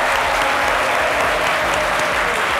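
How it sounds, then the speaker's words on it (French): Studio audience on the French midday TV show C'est Midi applauding loudly, a dense continuous burst of clapping close up. "on y va avec les applaudissements du cher public de C'est Midi."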